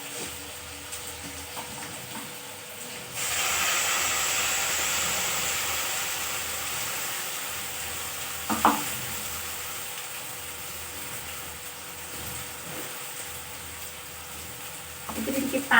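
Fenugreek greens with spices steam and fry in a pan, a continuous soft sizzling hiss that swells for a few seconds and then settles, with occasional clatters of utensils.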